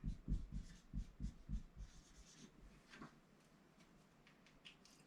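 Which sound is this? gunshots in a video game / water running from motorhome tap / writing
writing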